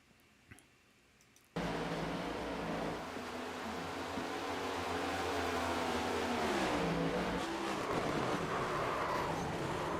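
Onboard in-car audio from a Super Late Model race car at Nashville Fairgrounds Speedway: after a quiet opening, a loud, sustained engine roar kicks in abruptly, its pitch dipping and climbing as the car works through the corners.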